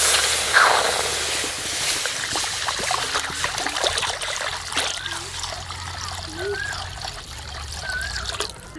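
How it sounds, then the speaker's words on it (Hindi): Water pours and trickles into a kadhai set over a village wood fire, a close, continuous splashing stream lasting several seconds. "सबसे पहले कढ़ाई में डाल लेंगे पानी।"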